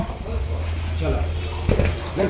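Freshly cooked biryani rice pours and drains through a strainer in a large kitchen, a steady rush of water close by with a voice talking over it.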